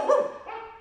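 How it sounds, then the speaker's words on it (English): A single dog bark with a short yelping tail, close and fairly loud, lasting under a second with no other sounds around it. "Can you make the dog sound?"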